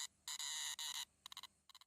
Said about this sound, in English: Cicadas are just demons, dude.